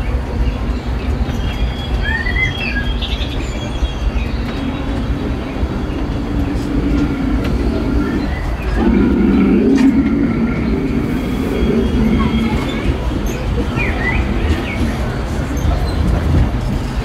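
A mine-train roller coaster at Disneyland at night rumbles and clatters along its track, a loud continuous roar with brief wheel squeals and a heavier surge midway.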